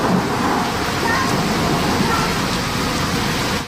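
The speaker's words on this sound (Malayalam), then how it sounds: "ഇടിമിന്നലോട് കൂടിയ മഴയാണ് വിവിധ പ്രവിശ്യകളിൽ ലഭിച്ചത്" Steady rainfall during a thunderstorm in Saudi Arabia, heard as a continuous broadband wash of rain with a low rumbling undertone throughout, fairly loud and without pauses.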